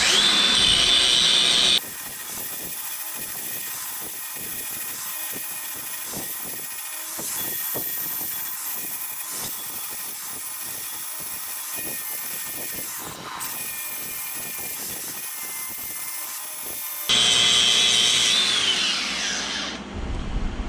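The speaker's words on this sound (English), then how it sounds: "Mostly because I wanted to practice grinding." A battery-powered angle grinder grinds metal for a floor lamp build, a loud, steady abrasive whine that runs nearly twenty seconds with a brief dip midway and a higher-pitched spin-up at start and end.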